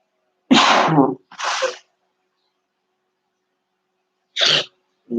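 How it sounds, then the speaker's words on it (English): Two quick sneezes in succession, then a pause and another sneeze followed by a short trailing one, close and loud with no talking. "Sorry, I was sneezing."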